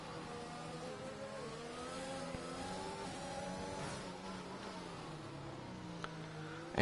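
Onboard race car engine in a sim racing game at the Monaco Grand Prix, a steady mid-pitched engine note rising and falling through gear changes, heard alone.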